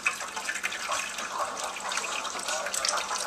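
Tap water running while whole red wheat gluten dough is rinsed by hand with no bowl underneath, a fluctuating splashing stream close by, alone without talk.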